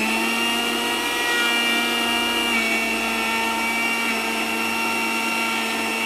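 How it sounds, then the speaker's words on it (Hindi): An electric grinder whirs continuously while grinding spices into powder, a loud, steady, high-pitched motor drone that holds the same tone from start to finish with no voices. "तो जब तक ये पेस्ट ना बन जाए इसे ग्राइंड करते रहना"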